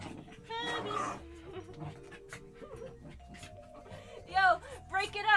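Dogs tussle and growl at a birthday party, short snarls and scuffling bursts mixed with loud human voices talking and laughing close by, with the sharpest flurries near the end.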